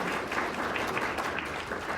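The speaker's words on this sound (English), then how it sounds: "So yeah, round of applause." A conference audience applauds in a brief, dense burst of clapping, fairly soft and even throughout.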